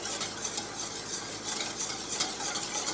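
Chocolate cake batter being stirred with a quarter cup of odorless oil for an eggless whole wheat cake, a steady wet scraping and sloshing that runs throughout, close and fairly loud, with no voices.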